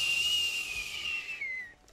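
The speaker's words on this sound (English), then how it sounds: "That's just the wind." Whistling wind heard indoors, a thin steady high whistle that slowly falls in pitch and fades out over two seconds, heard alone without talk.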